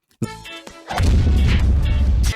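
A sharp blast followed by a loud, sustained rumbling roar, close and heavy, with no voices.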